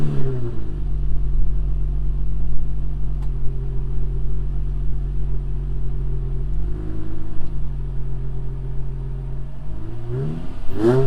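Infiniti G35 coupe engine idling steadily with a deep rumble, then revved up briefly twice, once near the middle and again at the end, loud and close with no talk.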